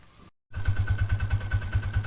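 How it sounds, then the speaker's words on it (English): A tractor engine in a pig pasture starts up after a brief silence and runs in a steady, throbbing low rumble with a regular pulsing beat, close and moderately loud. "We need the tractor."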